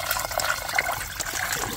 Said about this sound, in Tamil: மீதி இருக்கிற தண்ணி கீழே ஊத்திக்கிறேண்ணா